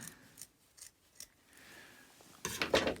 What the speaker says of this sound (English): We'll start by cutting it across there like that. Sharpish pair of scissors.